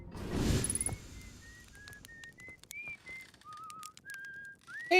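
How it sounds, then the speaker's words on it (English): A game character in Outer Wilds whistles a slow melodic tune beside a campfire at a campsite, clear pitched notes rising and falling after a brief whoosh at the start, no speech. "He's just whistling it."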